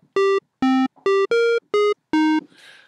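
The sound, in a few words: square wave synth tone from Thor wavetable oscillator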